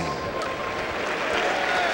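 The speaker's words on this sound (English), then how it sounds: "Here's the applause." Crowd applause at a Knicks vs Bullets basketball game as a substitute comes on, a steady broad wash of clapping and crowd noise held evenly throughout.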